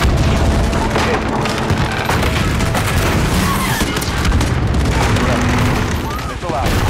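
A flashbang goes off amid a dense, loud battle scene in Call of Duty: Modern Warfare, with continuous gunfire, booms and rumbling filling the whole stretch.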